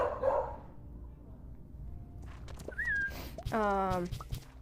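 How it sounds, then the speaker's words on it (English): A dog barks indoors nearby, a few short yips and barks in the second half, with a person talking in the background. "there goes the dog again"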